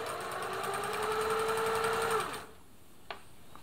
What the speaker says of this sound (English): we could sew along on the left-hand position there. Or the right hand position.